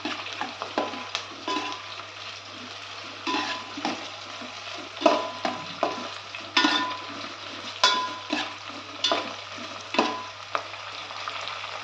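Tomatoes sizzling as they fry in hot oil for a Nellore fish curry, with a steady hiss broken by repeated scraping stirs of a utensil against the pan at irregular intervals.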